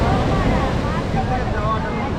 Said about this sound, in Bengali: কত জোরে ঢেউ আসছে